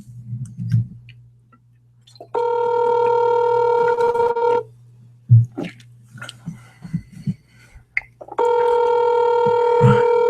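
A phone ringback tone heard over a speakerphone: two long, steady electronic rings separated by a pause, loud and clear, with faint background noise.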